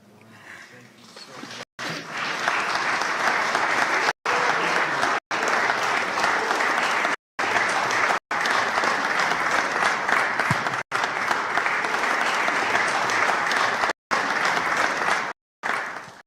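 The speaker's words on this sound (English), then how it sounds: "Give her a wonderful hand clap." An audience at an interfaith conference on spiritual diplomacy gives a long, loud round of applause, a dense, steady sustained clapping broken only by a few brief cuts.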